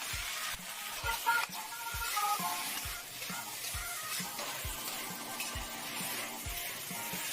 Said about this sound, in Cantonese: 炒牛肉咧要猛火快攻嚇